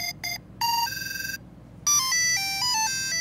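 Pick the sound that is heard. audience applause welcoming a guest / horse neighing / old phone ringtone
old phone ringtone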